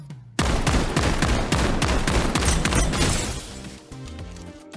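A weapon fires on full auto in the shooter game Strinova, a dense, loud, continuous burst of rapid shots lasting several seconds before easing off into a quieter tail.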